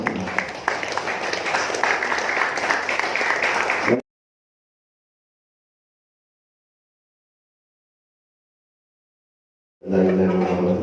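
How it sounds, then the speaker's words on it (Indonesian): Audience applause at a village head candidate event, a dense burst of clapping for about four seconds, then silence, then the clapping returns briefly near the end. "Mari kita beri aplaus bersama-sama."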